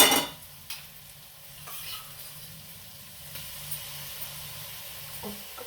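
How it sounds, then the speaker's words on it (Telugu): Curd is stirred into bagara rice in a pan, giving soft scraping and stirring strokes over a low, steady sizzle, quiet and close with a few sharper clinks. "వేగినాక ఒక్క స్పూన్ పెరిగేసి కలుపుతాను."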